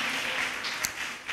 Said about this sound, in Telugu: చప్పట్లు కొట్టి దేవుని స్తోత్రం చేయలేచండి